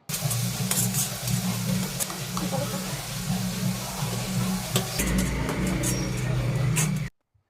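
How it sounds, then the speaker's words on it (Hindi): Spice masala sizzles and fries in oil in a kadai, a steady crackling hiss heard under a voice talking, which stops abruptly at the end. "कढ़ाई चढ़ा दी मम्मी ने, उसमें डाला है थोड़ा सा तेल, और मसाले को ना तेल में अच्छे से भून लेते हैं"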